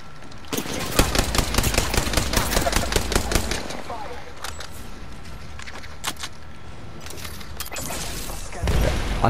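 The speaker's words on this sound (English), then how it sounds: "Oh, they're shooting at me." Video-game gunfire as enemies shoot at the player: dense rapid bursts of automatic fire in the first four seconds, then scattered sharper shots, with a heavier blast near the end; a voice talks over parts of it.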